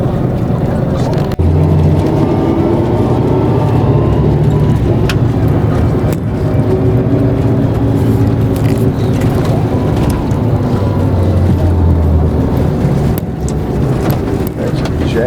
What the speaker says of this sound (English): There's a jet engine in there or something.